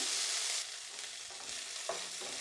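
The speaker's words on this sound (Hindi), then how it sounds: "ये जो हमने मिर्ची का पेस्ट था इसमें अदरक और मिर्ची का पेस्ट था उसे भी हम अच्छे से भून लेंगे" Ginger and green chili paste fries in desi ghee for sabudana khichdi, making a soft, steady sizzle with light stirring scrapes across the short stretch.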